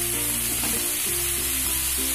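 Vegetable hakka noodles with vinegar and soy sauce fry on high flame, giving a constant loud hiss with faint stirring scrapes underneath.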